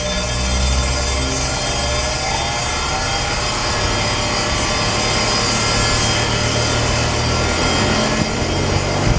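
Up close, a spark plug for a lawn mower, car or truck is lightly rubbed clean, a loud, steady scratchy rasping that runs unbroken throughout, with no voices.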